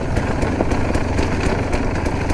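A KTM 300 hard enduro motorcycle's two-stroke engine drones loud and steady while being ridden on a steep downhill descent, a dense continuous roar with no talking.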